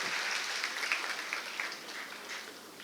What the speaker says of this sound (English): A big round of applause to our own Vice Chancellor.